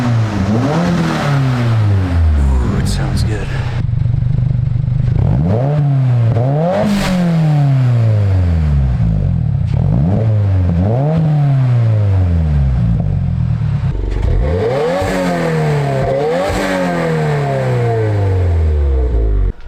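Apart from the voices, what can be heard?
Subaru WRX revving with VB titanium single exit exhaust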